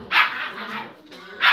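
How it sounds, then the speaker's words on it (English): Puppies barking and yapping: sharp, close yips burst out at the start and again at the end, with quieter yapping continuing between them. "I can't believe how noisy these puppies are."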